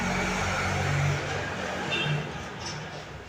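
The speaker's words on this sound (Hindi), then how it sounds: "तो यहाँ पे ना गाड़ी की आवाज़ बहुत ज़्यादा आ रही है" Faint road noise from passing cars outside, a low steady rumble that swells and fades slightly as vehicles go by.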